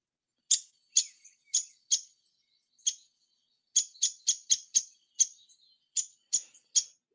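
A downy woodpecker gives a run of sharp, high, clipped call notes, about a dozen in all, sparse at first and then quicker and tighter, heard clearly against near silence.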